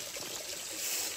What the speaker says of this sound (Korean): 물도 이렇게 졸졸졸 내려오고